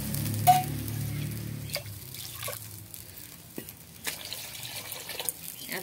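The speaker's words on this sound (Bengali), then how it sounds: "এবার আমি এখানে জল ঢেলে দেব।" Water poured into a pan of Rupchanda fish curry, a soft trickling splash at the start, then faint drips and light clinks in a quiet kitchen.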